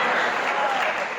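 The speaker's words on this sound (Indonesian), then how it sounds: "terima kasih dulu kepada Bang Bintang, tepuk tangan kepada dia." An audience at an Islamic lecture on funeral prayer and bathing the deceased bursts into brief, dense applause, loud and continuous throughout the short moment.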